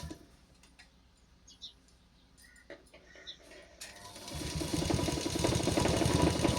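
A sewing machine stitches a baby frock for a four-month-old girl, first a few light clicks and handling sounds, then a fast, steady mechanical whirring that grows louder and continues to the end.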